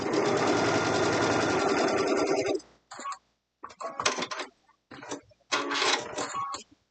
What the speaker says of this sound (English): you can start to sew a little bit on the one fabric